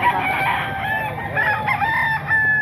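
A sweater gamefowl rooster crows loudly and close by in one long, wavering cock-a-doodle-doo that fills the moment alone.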